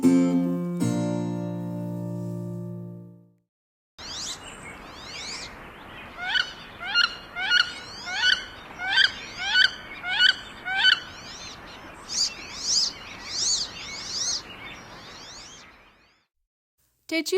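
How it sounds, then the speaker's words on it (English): A male wood duck calls in a rapid series of rising, squeaky whistled notes, about a dozen evenly spaced cries over a soft background hiss, preceded by a short musical jingle. "This is a male wood duck."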